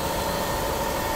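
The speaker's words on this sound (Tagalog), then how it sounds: "Sabay sinindihan natin ulit yung makina." A car engine is restarted and idles steadily during a coolant flush with the drain open and water being poured in, a constant droning hum with no talking.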